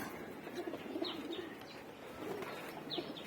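Visiting female pigeons being fed at a house coo softly and quietly, with a few faint rolling coos and brief higher chirps over a hushed, hissy background.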